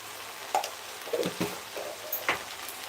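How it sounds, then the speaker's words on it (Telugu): Rice roasting with salt, curry leaves and mint in a pan gives a soft, steady sizzle broken by several scraping stirs of a spoon, close by and fairly quiet. "ఈ రైస్ అయితే ఒక ఫైవ్ మినిట్స్ అయితే రోస్ట్ చేస్తున్నాము"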